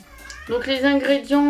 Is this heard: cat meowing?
yes